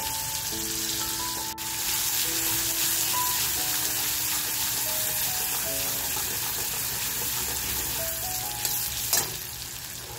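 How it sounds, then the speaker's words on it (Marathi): Chopped onion hitting hot oil seasoned with asafoetida, a steady close sizzle and fry with faint stirring and clinks through the whole stretch, no talking. "लगेचच जो कांदा कापून घेतलेला आहे तो कांदा टाकते."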